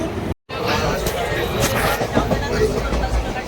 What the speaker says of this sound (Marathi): ट्रेन आलेली आहे आपली. आता प्रवास चालू झाला.